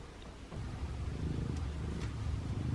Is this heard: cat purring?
yes